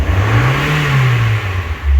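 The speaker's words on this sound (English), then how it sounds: "Another thing you wanna do is rev the engine and just see what happens to the AFRs." A Mazda NB Miata engine running on a Megasquirt ECU revs up once and drops back, a loud close swell in pitch over a steady idle, with no talking.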